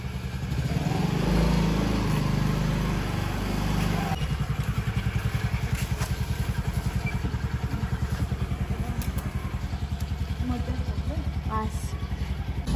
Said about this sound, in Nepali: अब मामुले स्कुटर निकाल्नु भइसक्यो मेरो साथीको बर्थडेको लागि